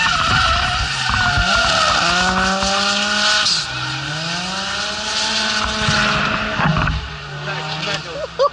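A tuned race car at a Tunerfest track event comes down a hill with its engine revving loud and near, tyres squealing and skidding through the run, while a commentator talks over it.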